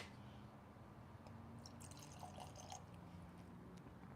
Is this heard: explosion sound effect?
no